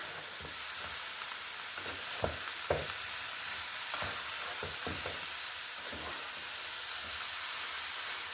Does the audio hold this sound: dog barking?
no